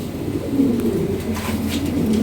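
European Lahore pigeons coo softly and repeatedly, low rolling calls over a steady background murmur, close at hand.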